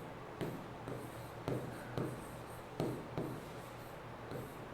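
A pen scratches across paper in a quiet room, soft rhythmic strokes with a few sharper taps as letters are written.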